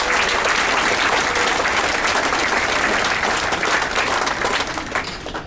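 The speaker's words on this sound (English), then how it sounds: "So please give a huge round of applause for your entertainment team who won last night." A cruise ship audience gives a loud, dense round of applause for the onboard entertainment team, the clapping continuous and close before easing slightly at the end.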